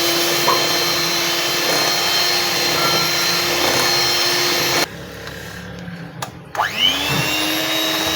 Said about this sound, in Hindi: हमने जो ऑयल डाला ना उसके लिए हमने इसको ज़्यादा बीट करना है